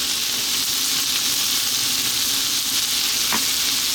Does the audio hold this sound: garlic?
yes